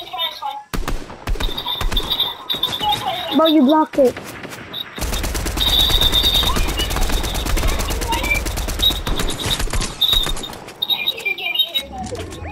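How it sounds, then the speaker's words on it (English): Rapid bursts of automatic gunfire in Fortnite build into a long continuous volley, loud and close, with players talking over the shooting. "Oh, shoot, shooting at me, shooting at me."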